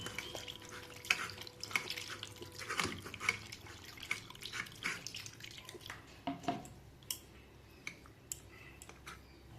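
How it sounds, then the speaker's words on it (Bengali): Chhana cheese curds rinsed under cold running water in a kitchen, a quiet trickle with scattered drips and splashes, close and soft, with no talking. "ছানাটা আবার ঠান্ডা জল দিয়ে আমি ভালো করে ধুয়ে নেব।"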